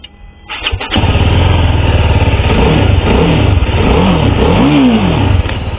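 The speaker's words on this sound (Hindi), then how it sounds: "सबसे पहले मैं आपको अर्बन में इसका एग्जॉस्ट का साउंड सुनाता हूँ" A 2022 TVS Apache RR 310 motorcycle in urban riding mode fires up after a brief crank, then its exhaust settles into a loud, close, steady run with a couple of rising throttle blips, heard alone.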